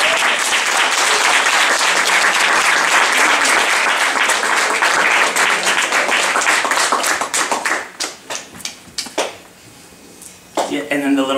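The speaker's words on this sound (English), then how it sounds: "if we can give my 2 friends a round of applause" An audience at a haircutting class gives a loud, dense round of applause that holds steady for about eight seconds, then thins to a few scattered claps and voices as it dies away.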